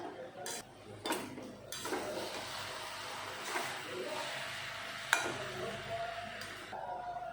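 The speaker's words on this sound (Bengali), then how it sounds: "এখন বাঁধাকপি ভাজার সাথে টমেটো ভালো করে মিশিয়ে নেব।" A spatula stirring fried cabbage with chopped tomato in a pan, giving intermittent scraping clinks against the metal over a faint sizzle, quiet and close.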